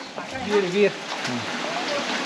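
Water flows and trickles steadily from a spring near Korigad, Lonavala, in a continuous burbling wash, while a person speaks over it.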